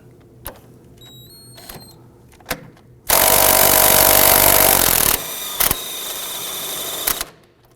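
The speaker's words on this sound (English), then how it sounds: "We're going to use our socket to go ahead and loosen that nut." A powered socket tool loosens the 15mm nut on a front sway bar end link of a 2008-2011 Ford Focus: a few faint clicks, then a loud close two-second whir, a brief pause, and a second quieter spin-down run.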